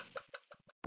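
A hen clucks in the video game Stardew Valley, a quick run of soft, short clucks followed by a brief pause and one louder final cluck, close and clear with no speech.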